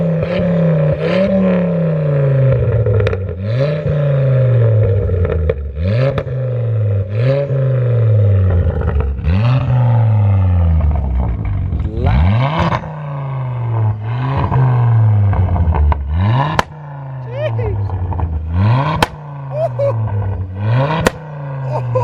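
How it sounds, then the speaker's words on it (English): A Ford Focus ST fitted with a Malian exhaust revs repeatedly outdoors, each loud rising roar falling away into crackling pops, about a dozen rev cycles in steady rhythm close by. "Mate, that pops proper now, doesn't it?"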